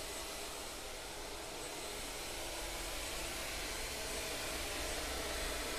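A Shaper Origin handheld CNC router makes a depth pass on a workpiece snugged onto a spoil board, producing a continuous, even, close roar and hiss with no pauses.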